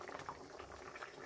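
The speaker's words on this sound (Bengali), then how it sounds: "এবার একটু ফুটুক, 10 মিনিট ফুটুক, ফুটলে পরে আমি নামিয়ে নেব।" Faint steady bubbling of a Bengali mustard curry of fasa fish simmering in a pan, soft continuous boiling close by with no talk.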